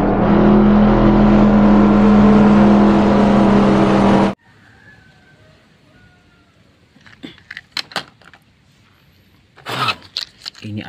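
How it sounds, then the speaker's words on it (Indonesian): A green toy race car's engine sound roars loudly for several seconds and cuts off abruptly, followed by quiet scattered clicks and short bursts of noise. "Wow, ini ada mobil balap warna hijau."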